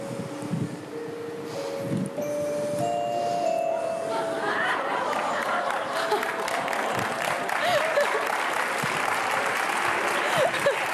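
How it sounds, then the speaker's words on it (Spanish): A theatre audience at a magic show breaks into applause after the act, with clapping swelling from a few hands into a full, sustained wash. Someone speaks briefly over the start and scattered whistles cut through later. "Un fuerte aplauso para ella"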